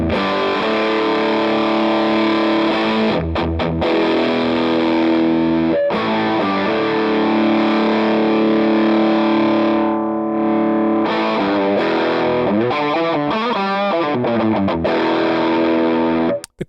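An electric guitar runs through a RAT distortion pedal emulation in Two Notes Genome, playing thick, saturated chords and riffs, loud and continuous with a few brief breaks and bending lead notes near the end.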